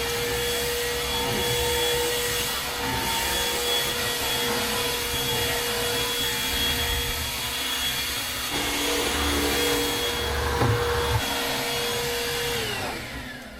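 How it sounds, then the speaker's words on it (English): Vacuum cleaner sucking up small debris inside a boat cabin, a loud steady motor whine running throughout with slight shifts in pitch as the nozzle moves. "now all of these little pieces from it are like literally all over this room, so I have to vacuum that up."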